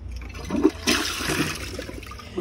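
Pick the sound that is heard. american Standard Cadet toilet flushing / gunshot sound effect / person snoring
american Standard Cadet toilet flushing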